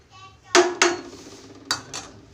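A metal lid is set on a cooking pot of rice and peas for matar pulao, giving four sharp close clanks, two quick ones and then two more a second later, in an otherwise quiet kitchen.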